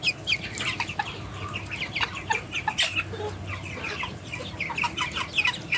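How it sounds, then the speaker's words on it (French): Young pullets and roosters being let out of their coop cluck and chirp continuously in a busy, overlapping chorus, fairly close, with no voices. "Ça c'est une poulette. Et à côté on a un coq."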